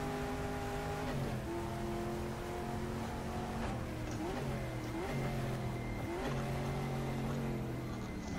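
Race car engine in GTR 2, a period racing sim with an H-pattern gearbox, revving steadily with rising pitch sweeps and gear changes, loud and continuous with no talk.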